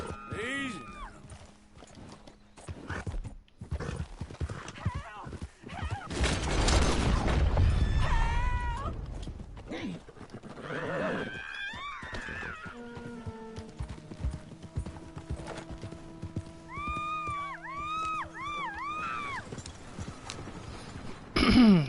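Horse hooves clip-clopping in Red Dead Redemption 2, soft steady hoofbeats mixed with game music, a loud rushing burst in the middle, and a horse whinny-like tones, with brief spoken lines.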